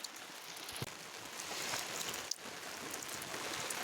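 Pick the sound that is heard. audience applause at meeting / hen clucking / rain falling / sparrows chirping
rain falling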